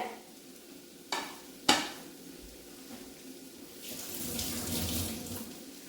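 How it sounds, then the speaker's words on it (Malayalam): Running water from a kitchen tap splashes into a sink as hands are washed beneath it; two sharp knocks come first, then the flow grows louder and fuller toward the end. "കൈ ഒന്ന് കഴുകട്ടെ"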